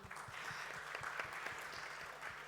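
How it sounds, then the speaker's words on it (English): A small crowd at a music event applauds guests, a faint, steady patter of clapping from a modest distance, with no voices over it. "Big round of applause."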